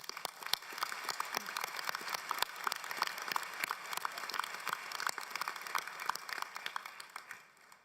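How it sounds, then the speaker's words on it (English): Graduates at a Langara College convocation ceremony receive sustained applause from the audience, a dense patter of many hands clapping at moderate distance for several seconds before tapering off. "Could we give them a round of applause?"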